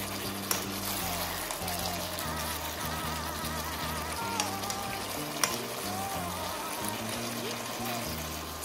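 Chicken pieces with young onion fry and stew in a pan, giving a steady, soft crackling sizzle with occasional stirring clicks, close but fairly quiet, while music plays in the background.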